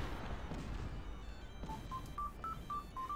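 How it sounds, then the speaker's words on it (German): A telephone sounds during a Cossacks strategy game session as a quiet series of short electronic beeps, evenly spaced and stepping in pitch, over a faint background hum. "Weil das Telefon klingelt."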